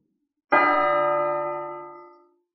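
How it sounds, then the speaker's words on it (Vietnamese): A small bell rings once with a sharp strike and then a long, clear resonant tone that fades away over about two seconds. "trong trời đất bỗng vang lên tiếng ngân vang của chuông"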